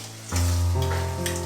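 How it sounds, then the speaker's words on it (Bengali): Tilapia pieces rubbed with turmeric and salt hit hot oil with a sudden loud, steady sizzle that carries on strongly after a brief quiet moment, with no talking. "একটু হলুদ গুঁড়ো, একটু নুন তেলাপিয়া মাছের মধ্যে মাখিয়ে ভেজে নেব বেশ।"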